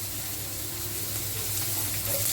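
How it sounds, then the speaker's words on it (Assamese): Onion, chilli, ginger and garlic frying in a pan for an Assamese muri ghonto, giving a steady, close, moderately quiet sizzle with faint stirring and no talk. "এইখিনি মই আদা নহৰু আৰু পিঁয়াজৰ গোন্ধটো যোৱালৈকে অকণমান ভাজি ল'ম"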